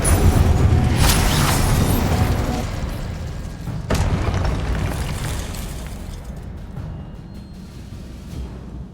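A fire spell cast in the video game Hogwarts Legacy erupts in a loud booming burst, with a second blast shortly after, then a rumbling, crackling roar that slowly fades.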